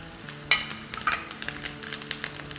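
Spices sizzle faintly while being stirred and roasted in a pan for urad dal, with light scrapes and clinks of a utensil over a soft frying hiss; no talking.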